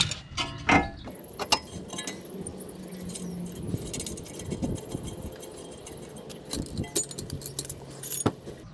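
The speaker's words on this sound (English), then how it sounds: "Tightening the nut." A wrench tightens the tie rod nut on a 2001 Lexus ES300, giving metallic clicks, ratcheting and jangling tool noises in irregular bursts at close range, with no talking.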